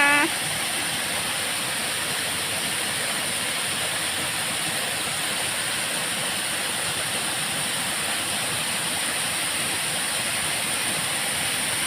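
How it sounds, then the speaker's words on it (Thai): Water pours over a weir overflow at a hot-water waterfall, a steady broadband roar of rushing water that stays constant and fairly close throughout, with no talk over it. "นี่คือน้ำตกฝายน้ำร้อนของบ้านเจ๊สมพารวยนะคะ"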